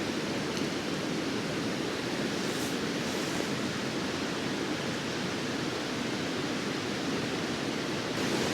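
A river near a snowy mountain campsite in New Zealand flows with a constant, even hiss of rushing water, moderately distant and unbroken, with no voices.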